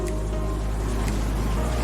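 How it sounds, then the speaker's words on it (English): Ocean waves washing onto a shore in Africa, a steady continuous wash of surf with a low rumbling body and no speech, fairly close and even in level throughout. "Can you hear the sound of the ocean waves?"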